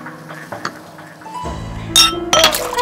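Glasses clink as friends toast at a table, with a couple of bright, sharp ringing chimes near the end after softer knocks and tableware sounds.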